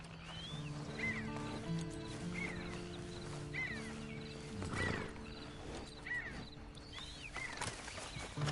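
Horse hooves clip-clop at a walking pace in the Western video game Red Dead Redemption Online, steady and mid-distance, mixed with a soft whinny, bird calls and layered game ambience.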